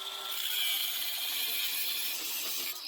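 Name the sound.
cutting a 5-inch socket extension in half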